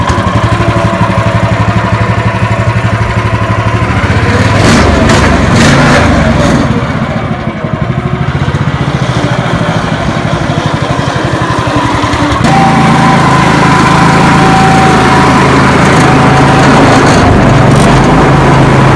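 A Turfco Mete-O-Matic top dresser's small engine runs loud and close throughout, a steady buzzing idle with a brief dip partway and a slight change in pitch later on.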